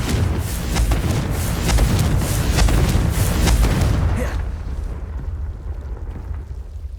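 Confringo blasting spell from the game Hogwarts Legacy, heard as a loud rolling explosion with a dense booming rumble that carries on for about four seconds and then cuts off into a quiet tail.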